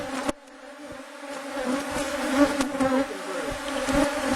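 Honey bees buzz steadily around an open hive during an inspection of the fourth box, among frames of capped honey and brood, a close, continuous droning hum with a sharp knock near the start.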